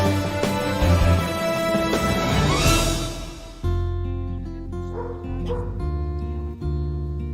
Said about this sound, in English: In other words, the Portuguese water dog.